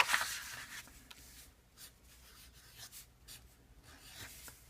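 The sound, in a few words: writing with a Bic pen on paper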